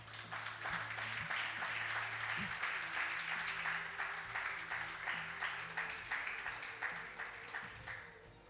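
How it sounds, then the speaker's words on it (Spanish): Congregation applauding the Lord during a morning Spanish-language church service, a steady, rhythmic wash of many clapping hands over a low organ-like hum, continuous and moderately distant, tapering slightly at the end. "¿Cuánto le da un aplauso al Señor en esta mañana?"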